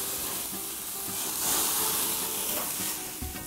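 Zucchini sizzles on a grill with a soft, steady hiss that swells slightly midway, accompanied by faint clicks and light tong handling nearby.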